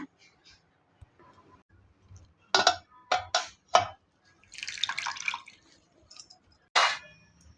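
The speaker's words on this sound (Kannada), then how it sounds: "ಮೊದಲಿಗೆ ಮೆಂತ್ಯ ಸೊಪ್ಪನ್ನು ನೀರಿನಲ್ಲಿ ಚೆನ್ನಾಗಿ ತೊಳ್ಕೊಂಡು ಬಿಡೋಣ." Fenugreek leaves being washed in water in a home kitchen: scattered drips and splashes, a few sharp watery bursts and a longer sloshing patch, fairly close and quiet with gaps between.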